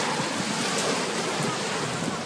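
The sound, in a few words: sea waves at a beach on Santorini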